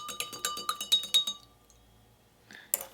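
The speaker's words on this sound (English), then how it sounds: "I'll give that one a stir." A teaspoon stirring sugar into a glass of cold water clinks rapidly against the inside of the glass for about a second, then stops; a couple of faint taps follow after a pause.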